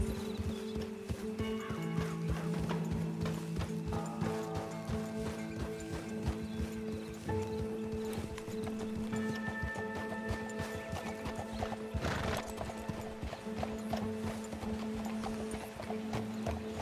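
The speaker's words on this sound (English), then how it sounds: "Control your horse, Arthur." Rapid hoofbeats pound along continuously while a horse whinnies in Red Dead Redemption 2, with a musical score playing underneath.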